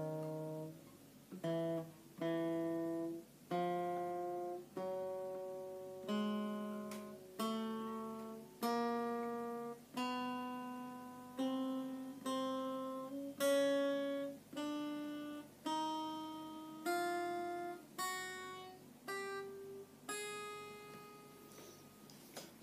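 Single guitar notes picked one at a time in a steady, even rhythm for a spider-walk finger exercise, each note ringing clearly and climbing gradually in pitch, with no talking over it.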